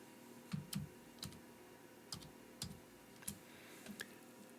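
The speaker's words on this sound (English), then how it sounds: "we're going to type capital ABC." Fingers typing capital letters on a computer keyboard, a handful of separate, close clicking keystrokes spaced irregularly, faint against a quiet room background.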